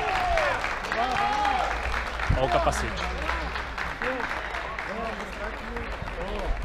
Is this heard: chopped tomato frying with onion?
no